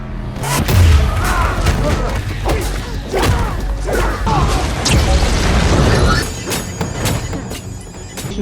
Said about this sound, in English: Concussion grenade.